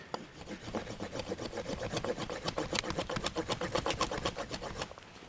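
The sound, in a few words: Harbor Freight survival knife filing at wood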